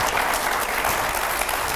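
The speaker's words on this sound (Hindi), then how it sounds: "बंदी साहब जरा एक बार आइए, जोरदार तालियां होनी चाहिए" A studio audience at a televised TV9 debate with Maulana Mahmood Madani and five editors breaks into loud, dense, sustained applause that fills the room steadily from start to finish.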